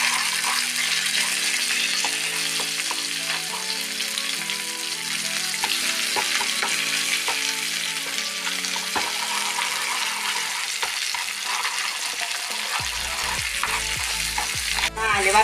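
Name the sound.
mustard seeds spluttering while frying for bitter gourd thoran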